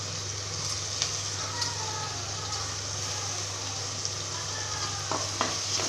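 Ground onion paste frying in oil for mutton kulambu, a dense, even sizzle with occasional soft stirring scrapes and a low steady hum underneath.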